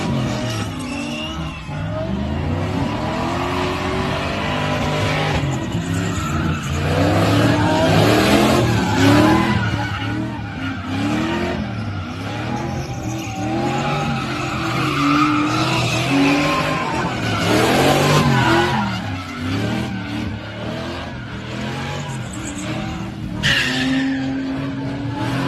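Ford Mustang drifting, engine revving hard under long, wavering tire squeals that rise and fall in repeated sweeps, loud and close throughout with a steady roar of motor underneath.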